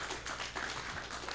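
An audience applauding at a talk, a fairly faint patter of claps spread evenly through the moment without voices over it.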